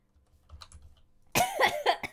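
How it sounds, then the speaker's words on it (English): A person coughs several times in quick succession, loud and close, after a stretch of soft keyboard typing during a computer game session. "I wish I wasn't coughing"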